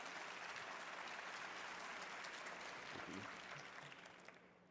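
Steady applause fills a large school-system leadership conference in an arena, a broad wash of many hands that holds level before easing off toward the end.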